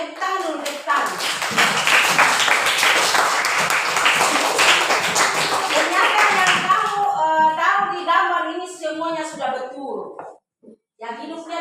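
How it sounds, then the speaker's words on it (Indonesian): Children in a classroom clap their hands together in a loud, dense burst lasting several seconds, then a few scattered claps trail off as a teacher speaks. "Sekarang kamu ayo tepuk tangan dulu, tepuk tangan."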